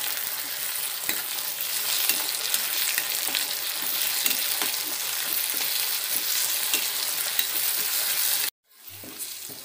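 Tomatoes frying and being stirred in a pan with ginger for baingan bharta, a steady dense sizzle with scraping strokes throughout, cutting off abruptly near the end into quieter kitchen sound.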